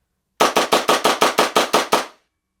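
Coolfire Sidekick recoil trainer cycling in a rifle, a quick run of ten sharp evenly spaced pops, loud and close, starting and ending abruptly in silence.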